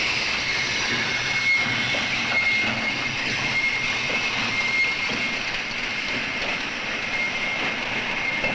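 Oil tanker trains rolling through the Daqing oilfield make a steady, continuous rumble with broad hiss and a faint whining tone, heard near and at a constant level with no voices.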